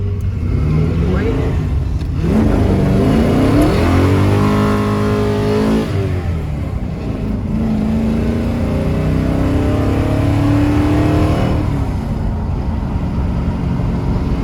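A 1985 square body truck accelerates hard, its engine revving up through gears in loud, rising sweeps close by, with brief dips at each shift and voices talking faintly in the cab.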